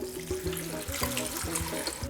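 Water poured into a pressure cooker pot over oyster and shimeji mushrooms with meat for an herbal soup, a steady splashing gush, close and fairly quiet, alone.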